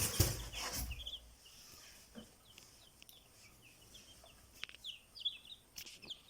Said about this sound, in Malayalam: നമ്മളെ കോഴിക്കുഞ്ഞ് കുറേ അധികം വരുന്നിട്ടുണ്ട്